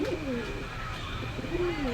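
Pakistani high-flyer pigeons coo softly in low, rolling calls, two or three coos rising and falling over a steady background murmur.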